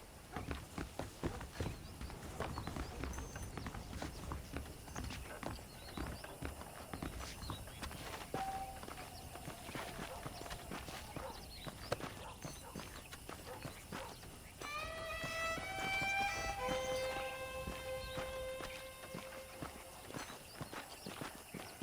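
Horse hooves clip-clopping in the Red Dead Redemption video game, a faint steady walking rhythm under ambient western game sound, with brief musical tones partway through.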